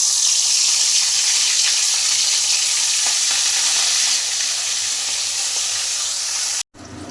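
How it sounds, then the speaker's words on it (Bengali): Fish fries in hot oil in a pan for a Bengali fish curry with taro, giving a loud, dense, steady sizzle heard up close for several seconds before cutting out briefly near the end. "মাছটা ভেজে নেব"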